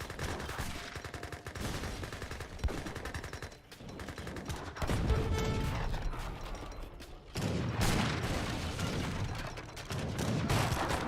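Gatling guns fire in an Age of Empires 3 battle as a steady, dense clatter of rapid mechanical gunfire, layered with other battle noise and continuous throughout.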